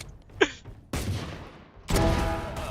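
Gunfire in Valorant during a VCT Pacific league match: a sharp crack early on, then two heavy bursts of rapid shots, each loud and sustained, with no talking.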